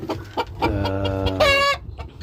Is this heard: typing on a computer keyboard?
no